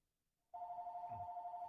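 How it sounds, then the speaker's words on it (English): A phone rings with a steady two-tone electronic trill that starts abruptly after a moment of silence and holds loud and close, with a faint low rumble beneath. "my phone is ringing"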